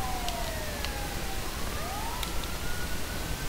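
An ambulance siren in the video game GTA 5 wails with rising and falling tones over a constant noisy rumble, steady and fairly close.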